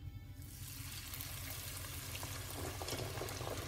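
Mbesses, Algerian semolina cakes, frying in hot oil over medium heat, a steady dense sizzle and bubbling that swells in within the first half second and holds loud and continuous to the end, with no talking.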